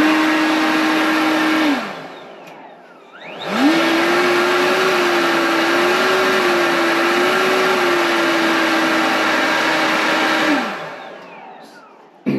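Ryobi leaf blower running indoors in a room, a loud steady whirring roar that spools down, falls silent briefly, then restarts and holds before winding off again.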